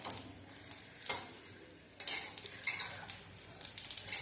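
Sesame seeds dry-roasting on low gas, stirred with a metal spoon in a pan: repeated scraping and rattling strokes, fairly close, with brief bursts of crisp clatter and no talking.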